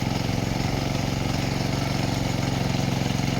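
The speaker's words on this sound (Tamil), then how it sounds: "இந்த பவர் வீடர் வச்சுருக்கிறவங்களாம் வந்து நல்ல ஒரு யூஸ் ஆகும்." Diesel power weeder engine running steadily at idle-like speed, a close, loud and continuous mechanical chug with an even rhythmic pulse and no voices.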